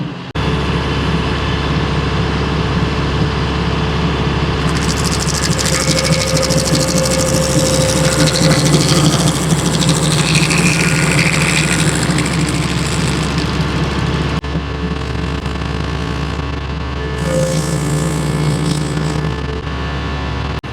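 A Woods SG100 stump grinder driven off a tractor PTO at 540 rpm, giving a loud, steady low engine drone with a continuous mechanical whir and high grinding hiss rising and falling throughout.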